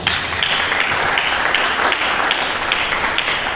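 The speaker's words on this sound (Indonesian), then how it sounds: "Berikan tepuk tangan." A church congregation applauds during a Sunday service, a steady wash of dense clapping that holds evenly for a few seconds with no voice over it.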